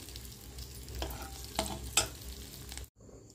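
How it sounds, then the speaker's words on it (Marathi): Okra fries in a pan with a steady hiss and a few scraping stirs, then a brief cut before the sizzle resumes more quietly. "अशा प्रकारे मी भेंडी फ्राय करून घेतलेली आहे।"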